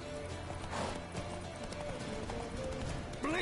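A horse gallops in The Witcher III, its hoofbeats clip-clopping steadily amid game background sound, with a brief whinny near the end.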